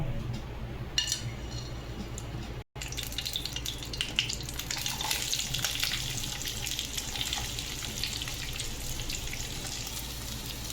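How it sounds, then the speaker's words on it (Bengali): Garam masala, green chillies and onion frying in hot oil for matar paneer, heard as a dense, continuous close-up hiss and crackle with one momentary dropout early on. "প্রথমে তেল গরম করে নিয়ে গরম মশলা, কাঁচা লঙ্কা, পেঁয়াজ, টমেটো দিয়ে ভেজে নেব।"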